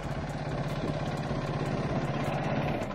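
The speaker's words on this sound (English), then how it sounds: "I'm gonna turn the bike off of this one." A Yamaha YFZ450 quad bike idles in a low, even rumble that stays steady for a few seconds, heard at moderate distance outdoors. No voices.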